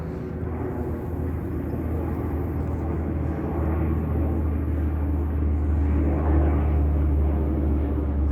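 Firefighting airplane flying over a wildfire: a loud, continuous, low engine rumble that swells slightly as the aircraft passes, with no nearby voices.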